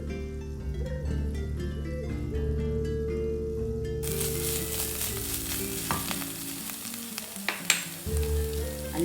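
Onions and curry leaves sauté in oil left from frying duck eggs, a steady soft sizzle with occasional stirring clinks, close by, under a faint musical background that changes partway through.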